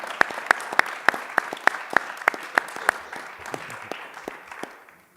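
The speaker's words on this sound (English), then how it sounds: "Please give me a warm round of applause for Battalion Chief Todd Muth." Applause at a city council meeting, a smallish group clapping with distinct individual claps over a soft crowd wash, loud at first and thinning out before fading to silence after about five seconds.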